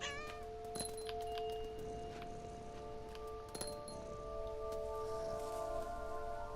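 A cat in What Remains of Edith Finch meows briefly at the start, then light clinks and soft taps sound over a steady tonal game ambience.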